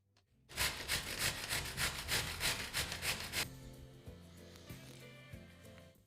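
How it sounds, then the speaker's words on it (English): Two zucchinis are rubbed against a coarse grater in a kitchen, making a run of about a dozen rhythmic rasping strokes for three seconds that then give way to softer background noise. "Let's grate 2 nice zucchinis with the coarse grater."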